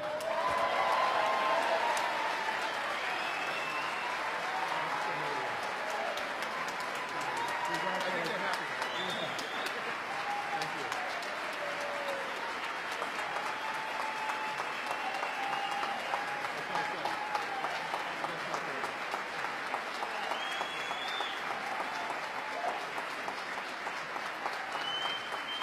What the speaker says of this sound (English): Let's give a big round of applause to the next Commissioner of Labor, Assemblyman Peter Rivera.